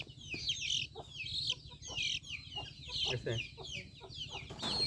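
Native desi chickens cluck and squawk repeatedly while being handled for Gumboro vaccination, their sharp calls rising and falling at close range, with brief speech in between.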